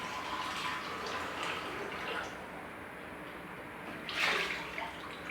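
Water runs steadily from a tap in a continuous hissing stream, near and fairly even, swelling briefly louder toward the end.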